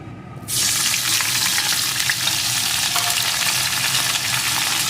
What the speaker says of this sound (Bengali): এখন এই তেলের ভিতরে উচ্ছেগুলোকে দিয়ে দেবো